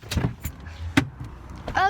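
A car door opening and clunking as people climb out of the car, a few short sharp clicks and thuds close by, with brief voices between them.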